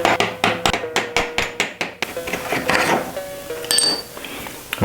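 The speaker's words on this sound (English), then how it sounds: "To tap it out, I'll be using a 3/8 extension as well as a rubber mallet." A rubber mallet strikes a 3/8 extension to tap the front axle out of a Super73 e-bike, about eight sharp, evenly spaced knocks followed by scraping and shuffling of metal parts.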